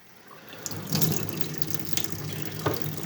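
Water runs steadily from a tap into the boiler of a 1970s Mamod toy stationary steam engine, a continuous close splashing and trickling with small bursts, no talk.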